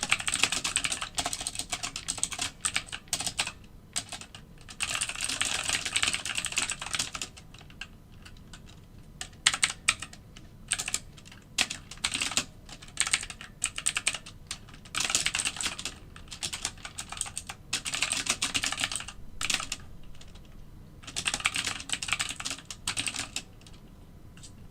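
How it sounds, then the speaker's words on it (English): Rapid clattering keystrokes on a computer keyboard come in dense bursts with short pauses, close and fairly loud, during a live algorithmic trading session on NinjaTrader. "I was just typing"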